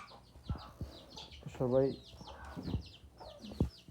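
Farm chickens cluck in a few short, fairly quiet bursts, with one clearer call in the middle, while a person speaks briefly nearby.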